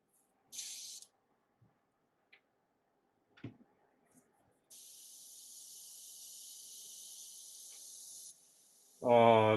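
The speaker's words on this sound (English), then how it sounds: "I'm gonna airbrush this" An airbrush sprays paint onto a miniature in a quiet room, a thin steady hiss lasting a few seconds after scattered small clicks and taps, followed by a brief voice at the very end.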